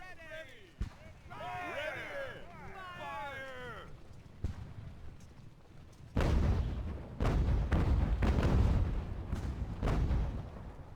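Artillery fire booms in Ultimate Admiral: Age of Sail, a naval battle game, with several loud heavy thuds in the second half following an earlier quieter stretch with a voice, birdlike squeals and a single sharp crack.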